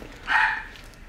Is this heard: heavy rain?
no